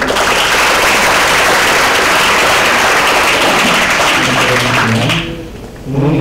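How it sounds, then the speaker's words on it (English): Seminar audience applauding, a dense, loud wash of clapping that fills the room for about five seconds before fading, with a voice starting to speak as it dies away. "Round of applause."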